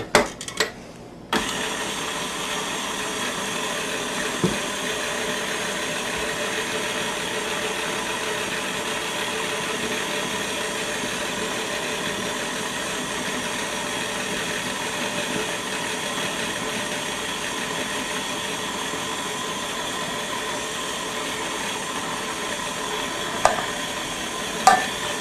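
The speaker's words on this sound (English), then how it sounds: "we're going to slowly add 2 cups of flour while the mixer's running" An electric mixer runs steadily while flour is slowly added to cherry cookie dough, giving a continuous even motor whir held for a long stretch, with a few clunks at the start and near the end.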